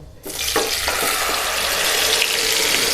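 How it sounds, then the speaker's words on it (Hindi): A spice paste for egg curry hits a hot pan after the cumin, setting off a sudden loud, continuous sizzle that starts abruptly and holds steady throughout, with no voices. "अब यहाँ जो सब पेस्ट हम तैयार करके रखे थे उसको डाल देना है।"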